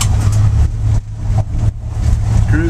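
A Chevy bug out vehicle's engine rumbles loud and close while driving, with a steady low drone that pulses and dips as the throttle shifts and a faint squeak near the end.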